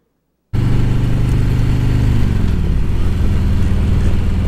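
A motorcycle engine cruising down the road starts abruptly and then drones loud and steady up close, the pitch easing lower partway through as the ride carries on.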